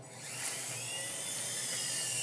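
A toy coast guard helicopter flies close by, its small motor giving a steady, high-pitched whine that holds at an even level with no talking.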